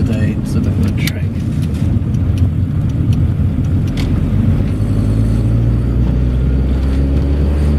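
A Triumph Acclaim L drives along at a steady pace, its engine and exhaust giving a continuous low, throaty drone heard from inside the car, with a slight rise and fall in pitch.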